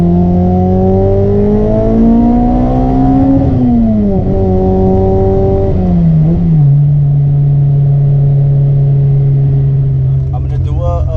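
A Honda B20B engine without VTEC idles loudly, then climbs and settles through several revs before it drops back to a steady idle, with a voice talking briefly near the end.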